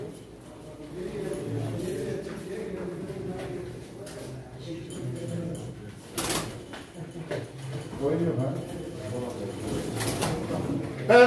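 Pigeons coo softly at a pigeon auction, a steady low burbling under continuous chatter and bidding from the crowd, with an occasional thump or clatter.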